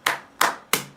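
Three sharp, evenly spaced hand claps, close and crisp with short decays, taken from a stock social media sound template.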